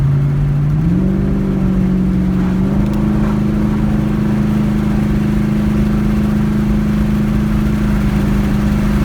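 Car engine pulling hard while driving, a loud, steady droning hum that rises in pitch as it accelerates, then holds a constant tone under road noise.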